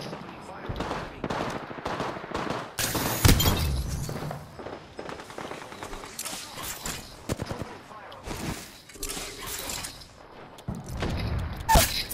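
Rapid bursts of automatic gunfire and crashing grenade blasts in an Apex Legends firefight come in uneven clusters with pauses between them, loud and close, with some player chatter in places.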